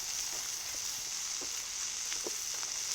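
Vegetables sizzle on a Cuisinart 360 XL griddle, a steady close hiss of frying with a few faint scrapes and ticks and no talking.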